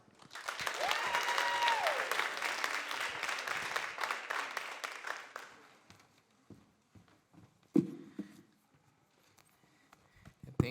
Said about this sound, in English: Please help me in giving him a round of applause.